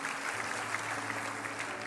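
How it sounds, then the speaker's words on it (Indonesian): A congregation applauds during a Good Friday sermon in a church, producing a brief, steady burst of dense clapping from many hands. "Kalau di gereja, boleh tepuk tangan untuk Tuhan."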